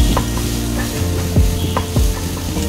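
Chopped onion frying in oil in a wok for khichuri, a loud continuous sizzle with a few scraping stir strokes across the pan.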